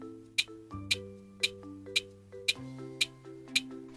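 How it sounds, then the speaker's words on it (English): A school lunch bell in a Minecraft game rings as a series of seven evenly spaced, bright chime strikes over a backing tune of sustained musical notes. "Oh, that's the lunch bell, guys."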